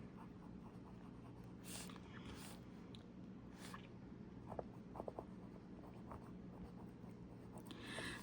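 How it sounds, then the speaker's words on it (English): A Pilot fountain pen with a medium nib scratches across paper in soft, faint strokes with small taps and pauses, under quiet room noise. "I'm gonna do the writing sample with this one now."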